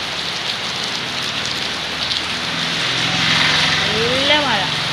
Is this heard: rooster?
no